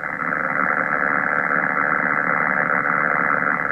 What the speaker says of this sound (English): I'll let you turn up the sound so you can hear the static.